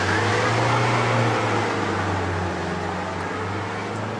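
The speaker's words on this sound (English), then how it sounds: "No matter what I tried, the front-wheel drive X-Type wasn't going up" A front-wheel drive Jaguar X-Type strains to climb an icy slope, its engine droning at a steady loud pitch that sags slightly as it fails to make progress, with no voices.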